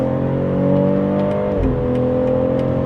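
A BMW B58 turbocharged straight-six in an SUV in sport mode accelerates hard, its raspy, fruity exhaust droning loud and steady before a brief shift dip, then pulling again close up.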